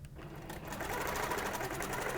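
A sewing machine stitches a quilt block, running in a steady fast whir with even rapid needle ticks, fairly close and continuous throughout.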